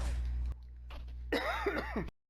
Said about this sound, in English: God, sorry for all the coughing.